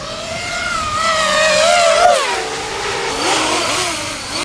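A NURK Edition 9-inch FPV drone from Catalyst Machineworks makes a full-speed flyby over a parking lot, its loud, high, buzzing motor whine sweeping upward and then dropping in pitch as it passes close and races away.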